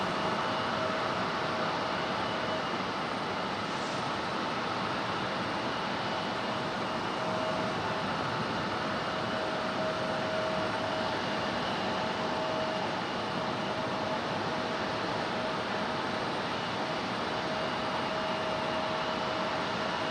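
An Avelo airliner arriving at Raleigh-Durham from New Haven gives a steady, distant broadband roar with a faint whining tone, continuous and even for about twenty seconds in stormy weather, with no voices.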